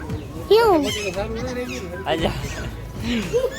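Grey parrots at Surat zoo give several loud, squawking calls up close, scattered irregularly among people talking nearby.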